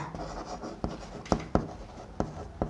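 Strokes of writing on a board during a class 12 trigonometry lesson give about six distinct scratchy taps in an uneven rhythm, close and clear, with no talking.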